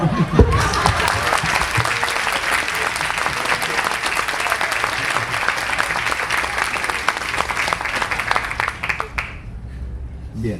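Applause fills a hall at a comedy and music show, dense and sustained for several seconds before thinning out, with a voice speaking as the clapping fades.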